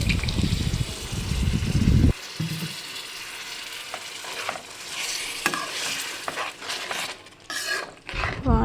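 A loud pour of water into a hot pan of egg and tomato curry, followed by steady spoon stirring, scraping and soft sizzling close up, with occasional clinks of utensil against the pot.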